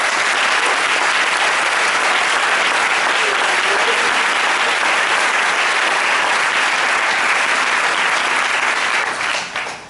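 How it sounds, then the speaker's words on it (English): Audience applause at a high school symphonic band event, a dense, loud, steady wash of many hands clapping throughout, fading slightly at the very end. "Can I have a round of applause for him for that?"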